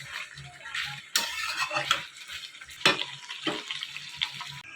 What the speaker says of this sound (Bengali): 3টে মাছ ভাজা করবো আর কি